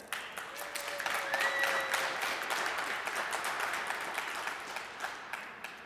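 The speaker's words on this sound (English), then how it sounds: "please, HeroFest crowd, give a warm round of applause for your winning trio, Noah, Zex, and Faces." A gaming festival crowd gives a soft, scattered round of applause for a winning Fortnite trio, heard at a distance and holding at a fairly even level throughout.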